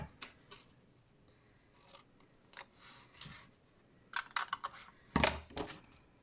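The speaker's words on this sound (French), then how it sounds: "Vous allez couper les 2 et en diagonale le 3e." Scissors cut through a paper card in short, crisp snips, quiet at first and then in a louder cluster of sharp close cuts toward the end.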